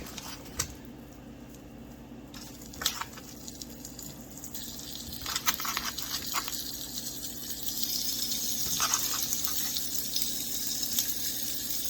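Non-stick cooking spray hisses in short bursts onto a metal pizza pan for a stuffed-crust pizza, with a few quick sprays spread across the stretch, close and fairly quiet.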